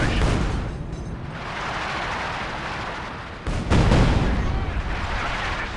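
A light artillery barrage in the Company of Heroes 2 video game on the Eastern Front at the Reichstag rumbles as dense, loud booms and explosions, swelling into a heavier blast partway through.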